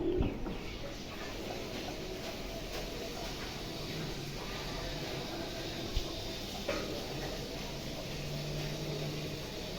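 A Red Neck Hungarian High Flyer Budapest pigeon gives soft, intermittent coos against a constant wash of steady background noise, fairly faint, with no talking.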